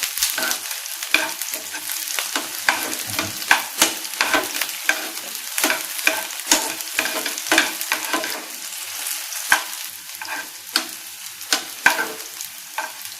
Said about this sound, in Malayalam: ഇനി നമുക്ക് ഈ ഉള്ളി ചെറുതായിട്ടൊന്ന് വഴറ്റിയെടുക്കാം